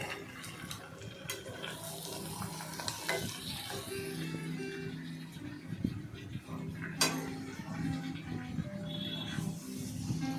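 A spatula stirs katla fish head muri ghonto around a sizzling pan, scraping and clacking in repeated close strokes over a continuous soft frying hiss, with no one talking.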